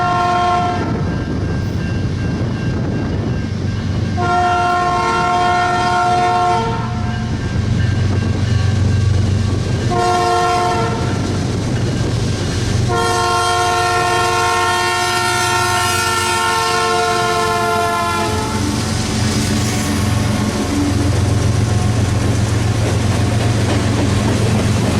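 A loud CN local freight train rumbles close by at a road crossing outside Metairie near New Orleans, its horn blaring in repeated long blasts of varying length over the steady grinding of the passing cars.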